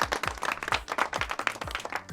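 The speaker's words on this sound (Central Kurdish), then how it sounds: "ئافەرین یەک چەپڵەی بەهێزی بۆ لێن" Audience clapping for a child at a village gathering, a fairly close, somewhat uneven rhythm of claps from a modest group, steady for the whole stretch.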